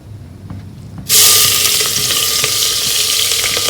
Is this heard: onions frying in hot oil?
yes